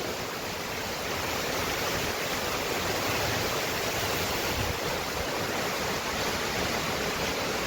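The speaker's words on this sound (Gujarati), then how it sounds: "જો એક નંબર છે પાણી. આ વર્ષનું પેલું પૂર છે." A flooded river in the rainy season rushes in a steady, loud broadband roar that never lets up, with no speech over it.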